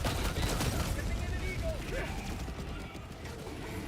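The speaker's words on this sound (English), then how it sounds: "Requesting orbital. Firing orbital barrage." In Helldivers 2, an orbital barrage strike pounds the ground as a dense, rolling wall of booming blasts and rumble. The barrage is loud and sustained throughout, with voices partly mixed in.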